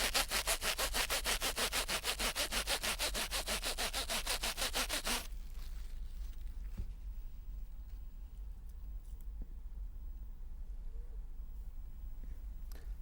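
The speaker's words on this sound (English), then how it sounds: "I am going to rub this comb with this plastic sheet" A comb rubbed briskly with a plastic sheet, a fast rhythmic scratchy rasp of quick back-and-forth strokes for about five seconds, then quiet with faint handling noises.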